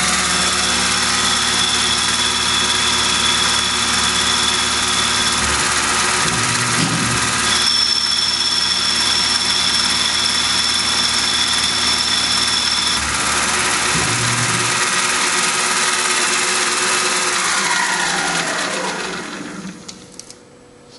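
A Tormach PCNC 1100 Duality lathe cuts at 1,000 RPM with a 10-thousandths depth of cut, giving a loud, continuous machine whine with a steady tone that winds down near the end.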